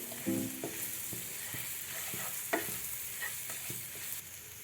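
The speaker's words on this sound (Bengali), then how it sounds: "এবার আমি এই সবগুলো ভালো মতো মিক্সড করে নিচ্ছি, লবণ হলুদ।" Bata fish is mixed with salt and turmeric in a pan for a sesame fish dish, with a soft sizzle beneath irregular scraping and clinking stirs, close and fairly quiet with no voices.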